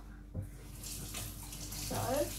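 Tap water running over a bottle being rinsed, a steady close wash of flowing water with a brief knock near the start and the splashing growing fuller toward the end.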